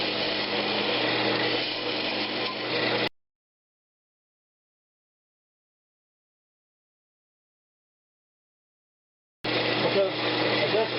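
Wood lathe hollowing a Brazilian cherry lidded box, a steady buzzing hum of the spinning blank and cutting tool, broken by a silent gap of several seconds before the turning noise resumes.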